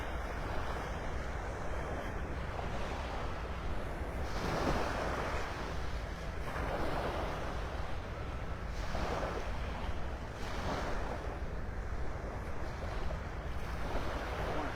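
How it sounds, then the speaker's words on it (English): Surf breaking and washing ashore at Delnor-Wiggins beach in North Naples, Florida, a steady roar with several distinct wave surges swelling every couple of seconds, mixed with wind buffeting the microphone. "We're at the beach."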